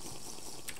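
Water gushing in a steady, continuous stream after a lever is pulled in Minecraft, a brief, even rush with no talk over it.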